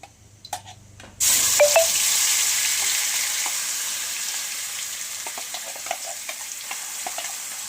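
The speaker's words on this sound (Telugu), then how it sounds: "ఒక 2 నిమిషాలు పచ్చివాసన పోయేంత వరకు మనం ఈ ఆయిల్లో మనం దీన్ని వేయించుకోవాలి ఈ కారాన్ని" Ground red chili paste hits hot oil already crackling with mustard seeds and curry leaves, bursting into a loud, sudden sizzle that holds steady for several seconds, with small utensil clinks scattered throughout.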